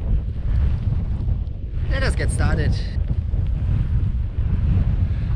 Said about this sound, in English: It's just a strong wind and fog.